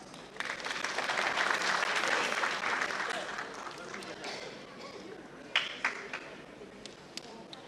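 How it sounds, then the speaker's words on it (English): Audience applause at an architecture college's foundation and annual day in Guwahati, a dense crowd clapping loudly that swells early then gradually thins into scattered claps with a few sharp louder hits near the end. "A huge round of applause."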